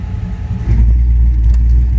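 A 1957 Chevrolet with an LS engine swap, its exhaust cutout just opened, rumbles loudly and close. Engine note jumps sharply in deep, throaty volume partway through, then holds a heavy, rough idle.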